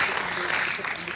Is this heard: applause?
yes